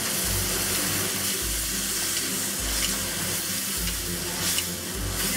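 Chicken and asparagus stir-fried in oyster sauce, sesame oil, honey, black pepper and Shaoxing wine sizzle steadily and loudly, with rhythmic pushes of stirring repeating about once a second up close.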